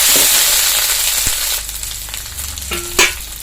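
Ginger spice paste sizzles loudly in hot oil for lentil dal, a dense close frying hiss broken by a few ladle scrapes and a sharp clack near the end.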